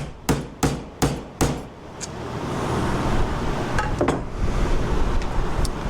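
Four hard, evenly spaced hammer blows drive a grass flap chute blocker onto a Gravely zero-turn mower, followed by a broad steady rushing noise with a few faint clinks.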